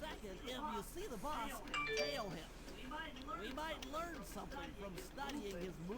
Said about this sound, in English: Sorry, that's my phone going off, by the way.